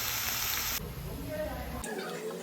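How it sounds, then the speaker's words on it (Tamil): Ginger, grated carrot and shredded cabbage sizzle softly as they are sautéed in a pan for egg rice, a steady crackle that persists for a few seconds. "2 துண்டு இஞ்சி போட்டு எல்லாத்தையும் நல்லா வதக்கி விட்டுக்கலாம்."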